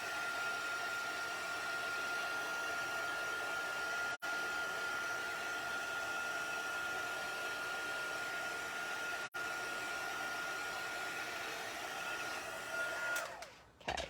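A dryer blows steadily over alcohol ink on paper, giving a loud, continuous close whoosh for about thirteen seconds, briefly dipping twice before it winds down and cuts off at the end.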